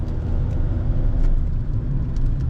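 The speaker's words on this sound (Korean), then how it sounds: "지금 제가 가속을 하고 있잖아요" Hyundai Avante MD sedan accelerating on a road test drive, a steady mid-range engine drone with rising revs under constant road and wind noise, heard from inside the cabin.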